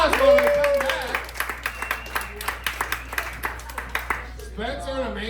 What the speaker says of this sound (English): Give them a round of applause when they come back.